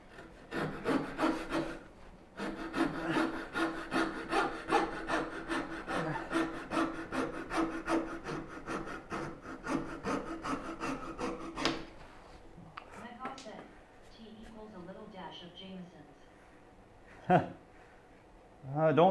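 A hand bow saw cuts through a piece of wood in steady, rhythmic back-and-forth strokes, loud and close for about twelve seconds, followed by quieter scraping and handling sounds with brief talk.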